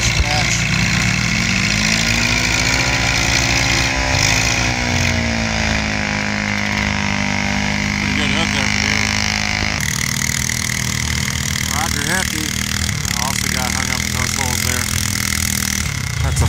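A loud, roaring tractor engine, a Farmall 400 with a 6.2 twin turbo at a tractor pull, revs and drones continuously, rising and falling in pitch, with a voice announcing over it throughout.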